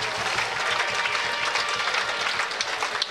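Steady, dense applause from a crowd honoring a pole vaulter at a Frisian fierljeppen championship, loud and continuous from start to finish.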